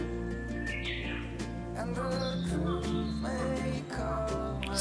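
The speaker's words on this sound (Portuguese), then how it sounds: "Os passarinhos." Small birds chirp and tweet in short, scattered calls within a patch of woods near Kasuga Taisha shrine in Nara, Japan, under a low continuous rumble of background noise that includes a noisy motorbike in the distance.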